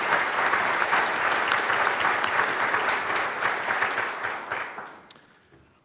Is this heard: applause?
yes